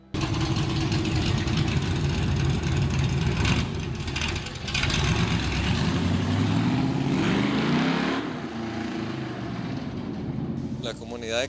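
Modified 4x4 car engine running steadily while idling, a loud rough low rumble with a slight shift in pitch later on, heard under continuous nearby talk.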